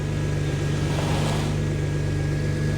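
A stuck car's engine hums at a steady, moderate level while the driver tries to back out of a high-centred spot. The sound is continuous and fairly close, with no talk.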